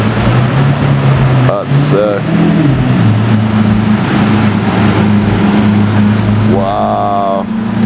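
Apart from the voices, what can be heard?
Lamborghini Aventador Roadster engine driving by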